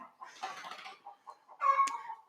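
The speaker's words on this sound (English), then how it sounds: "Noisy chicken." A chicken clucks in short bursts, ending in a louder, higher squawk, close by with no talking.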